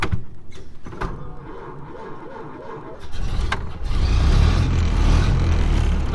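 A 1931 Ford Model A engine catching after the gas is turned on, a few sputtering knocks at first, then a loud, close, steady idle rumble building.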